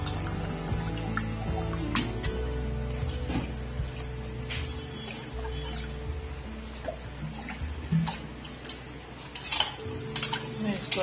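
A utensil scrapes and clinks against a pot of cold water mixed with pani puri masala, stirred in steady uneven strokes with light sloshing and a few louder knocks, close by and with no talk.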